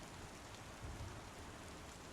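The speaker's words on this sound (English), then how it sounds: "So much rain out here." Rain pours steadily outdoors at a landing-pad facility in the space game Star Citizen, a soft, even hiss with no breaks.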